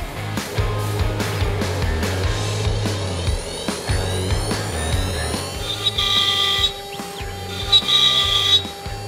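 A CNC router with an automatic tool changer carves the front of a wooden drawer using a roundover bit, its spindle whine steady while stepper motors buzz in repeating patterns of tones as the machine moves, with occasional higher cutting squeals.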